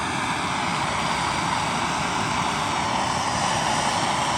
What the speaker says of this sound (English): It's going to take a while with a MAP gas torch.